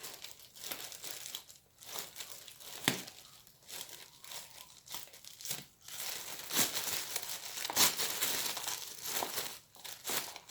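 Crinkling plastic bag being handled, its rustles and crackles coming in irregular bursts and pauses, close and fairly quiet, with no talking.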